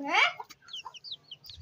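A hen gives a short, squawking cluck up close, followed by faint high chirps and soft clucks.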